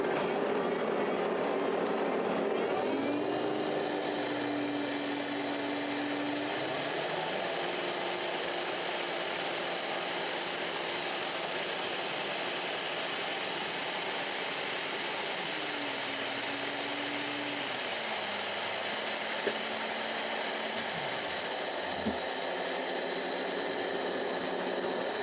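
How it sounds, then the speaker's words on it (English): An Allvac AV7000H hydro excavator's pressure vacuum pump runs steadily and loudly for the whole stretch, a dense continuous roar with a low tone that shifts pitch now and then as pressure relieves, and no one speaking over it. "you'll hear the vacuum relieving out the pressure reliefs at the front"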